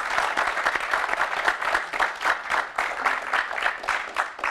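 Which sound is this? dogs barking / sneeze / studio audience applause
studio audience applause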